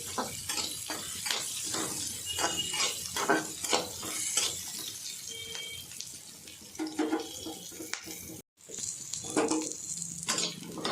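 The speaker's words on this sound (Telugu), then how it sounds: "వేపుకోవాలి దోరగా వేసుకోవాలి" Bitter gourd with onion frying in oil until golden, a steady sizzle broken by repeated stirring scrapes and clinks in the pan, close and fairly loud, with a brief drop to silence near the end.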